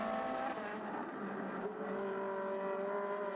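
A Ferrari 458 Evo race car runs at the Mugello circuit, giving a loud, continuous high-revving engine wail that shifts pitch partway through as it passes close by.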